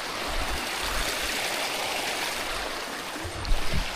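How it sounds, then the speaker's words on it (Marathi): A small waterfall stream runs beside a trekking path on the Garbett Plateau, giving a steady, full rush of flowing water that stays close and even for a few seconds, with no voices. "छोटासा आणि सुंदर वॉटरफॉल लागलेला आहे आपल्याला."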